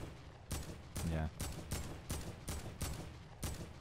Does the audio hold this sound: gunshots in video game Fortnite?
yes